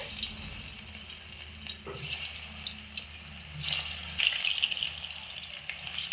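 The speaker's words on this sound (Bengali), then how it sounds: "প্রথমে আলুগুলোকে দিয়ে ভেজে নেব তেল গরম হয়ে গেছে" Potato pieces fry in hot oil in a pan, a loud, steady broadband sizzle that swells briefly partway through, close and continuous with no speech.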